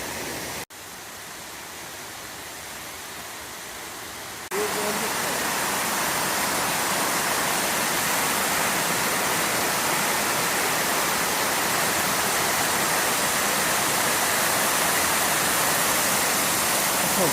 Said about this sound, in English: I told Pete I no longer like the sound of rushing water